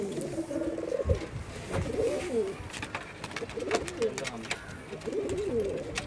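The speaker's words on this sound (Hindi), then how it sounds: "काफ़ी ज़्यादा शानदार कबूतर है" Pigeons cooing in a loft of show birds kept for flying tournaments, repeated low soft coos with some wing flutter and movement, fairly close, with someone talking intermittently.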